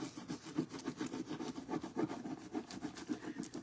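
Foil is rubbed by hand onto a mannequin bust in a rhythmic series of close, scratchy strokes, roughly three per second, evenly repeated without talking.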